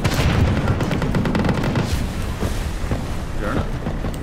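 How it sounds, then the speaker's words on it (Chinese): Rocket artillery and cannon bombardment in the video game Tank Warfare Simulator, a heavy continuous barrage of booms and rapid gunfire, loud and rumbling, easing slightly toward the end. "火箭炮、火焰炮和各种加农炮一阵狂轰滥炸就可以"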